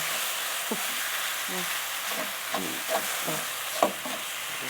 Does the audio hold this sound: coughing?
no